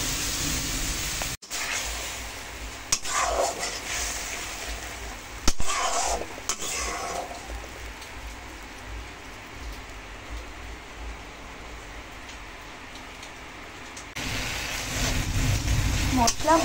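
A spice paste fries in oil for a pabda fish curry, making a rain-like sizzle under repeated scraping strokes of a spatula. It starts loud, fades to a softer hiss in the middle, then swells again as stirring resumes.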